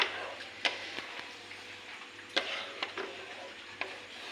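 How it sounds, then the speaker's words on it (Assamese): Matar paneer gravy with peas being stirred in a pan, with a quiet steady simmer and a few sharp scrapes and clicks of the spoon against the pan spread irregularly through it. "এতিয়া আকৌ ভালকৈ লৰাই দিম"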